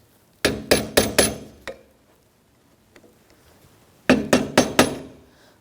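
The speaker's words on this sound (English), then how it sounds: "I just like to give it a little tap with a hammer" Two quick bursts of metallic hammer taps on a front ball joint for a Jeep Patriot, four or five sharp ringing strikes each, separated by a short quiet pause with a faint knock.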